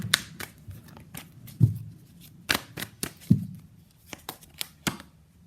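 Tarot cards shuffled by hand at close range, a quiet series of irregular riffling snaps and soft slaps with brief pauses, no talking.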